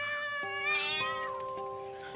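Cats crying and meowing in the dark, a long drawn-out wail with rising and falling pitch over a low musical drone, close and loud, with no voices.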